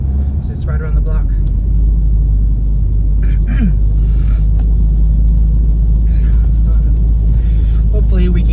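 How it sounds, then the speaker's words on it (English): A car engine rumbling and idling on a chilly morning, a deep steady low drone that stays loud and constant from start to finish while a person talks over it. "Car's rumbling, still a little chilly, so car's gonna vibrate a little bit more."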